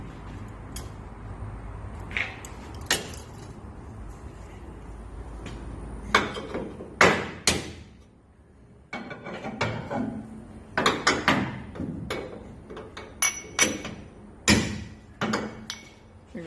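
Wrenches and tools clank and tap on a race car's suspension in a shop while bolts are loosened and a part is adjusted about half an inch, giving a scattered series of sharp metallic knocks and clicks with quieter gaps between them.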